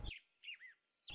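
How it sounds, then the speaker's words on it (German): A bird in a Bambi parody gives a few short chirps, two or three high, quick tweets set off by louder bursts at the start and end. "Vogel."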